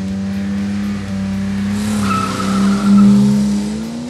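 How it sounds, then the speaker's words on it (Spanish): A BMW E21 launches hard at a drag race, its engine note rising loud and close with tire squeal over a few seconds, and no talking. "Sale duro ese BM, ¿eh?"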